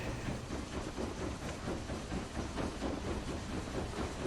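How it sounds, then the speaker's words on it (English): Steady broadband rumble and hiss of a train in the video game Book of Travels, continuous and fairly loud with a rhythmic rolling texture and no talk. "There's a train here"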